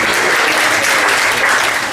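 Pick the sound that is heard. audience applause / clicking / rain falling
audience applause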